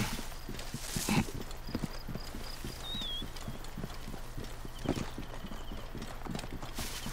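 Horse hooves clip-clop steadily in Assassin's Creed Origins, a close, regular trotting rhythm over rough ground with a brief whinny partway through and no talking.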